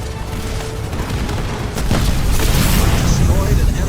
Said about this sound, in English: Destroyed an enemy structure.